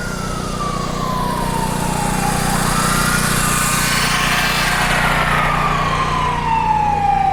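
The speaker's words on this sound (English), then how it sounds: "that's a dumb place to be drilling a hole" A drill bores a hole in a Washington, D.C. sidewalk for a traffic bollard, making a loud, continuous grinding roar close by while a siren wails and sweeps downward in the distance.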